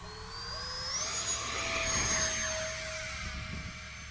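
An E-flite Habu STS radio-controlled jet with a 70 mm ducted fan and a 70 amp ESC flies past under cloudy skies, its high whine rising and falling in pitch as it passes at moderate distance.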